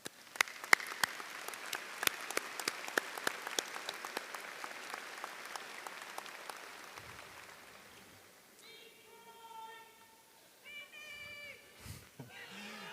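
A university commencement audience applauds at an undergraduate graduation ceremony, a dense, steady patter of many hands that fades after several seconds, followed by softer background noise and faint tonal sounds.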